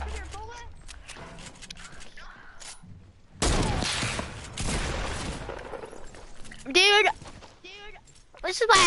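SMG and SCAR rifle fire sprays in bursts during a video game, with loud rapid volleys between quieter stretches and voices talking over the action.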